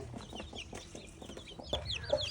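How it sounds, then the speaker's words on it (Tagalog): A Shamo and Aseel cross mother hen clucks softly near her newly hatched chicks, which give high, thin peeps, close and quiet with a few sharper chirps toward the end. "Magbababa tayo ngayon ng ating inahin na bagong sisiw."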